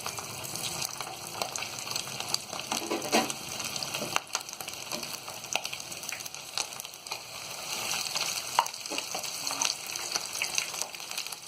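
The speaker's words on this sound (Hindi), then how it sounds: "अब हम इसमें इस तरह ये लेग पीस डालेंगे और इसे फ्राई कर लेंगे।" Chicken drumsticks (leg pieces) frying in hot oil in a wok over high flame for tangdi kabab, a steady crackling sizzle with occasional louder pops, close and continuous with no talk.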